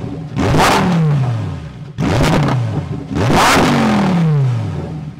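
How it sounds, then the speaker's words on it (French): A Lamborghini Huracan STO engine revs hard three times in a row, each rise swelling loudly then falling away, with the exhaust valves audibly changing tone between drive modes; close and dominant, no talking. "on entend aussi les valves qui changent, le régime qui est aussi un petit peu différent selon le mode de conduite"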